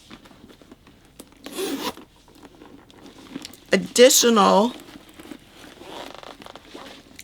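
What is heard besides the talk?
bag zipper being opened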